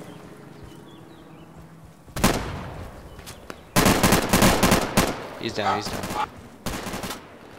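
Bursts of automatic and single gunfire in Insurgency, loud and close, coming in several clusters with pauses between, while a voice speaks briefly.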